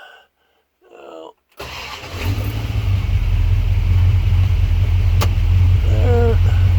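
A 1967 car's engine cranks and fires up after brief talk, then settles into a loud, steady nearby idle with a low rumbling drone, a voice speaking over it near the end.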